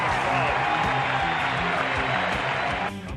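Sellout stadium crowd at a 1999 Texas A&M Aggies college baseball game cheering in a loud, sustained roar that holds steady for about three seconds before dropping slightly, with rhythmic low thumps and a voice mixed in beneath.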